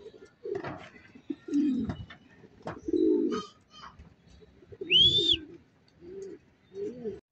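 Pigeons cooing nearby in a series of low soft coos with short pauses, plus one brief higher chirp partway through.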